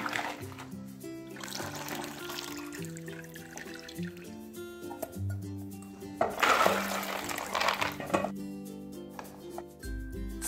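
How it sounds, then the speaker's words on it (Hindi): Water from soaked sprouts of moong, chana and moth beans trickles and drips through a sieve, with splashy pours and dribbles over a faint musical background. "और सारा पानी निकाल देंगे।"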